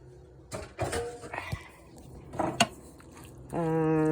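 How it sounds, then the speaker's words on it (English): Shrimp go into a cooking pan with a few clattering knocks and scrapes of metal cookware, then a steady sizzle rises at the end. "I have my shrimp, and I'm actually going to put them in this pan here."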